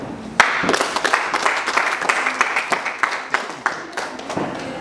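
A crowd at a wedding event claps in a dense, steady patter of overlapping hand claps, moderately near, with a few sharper individual claps standing out.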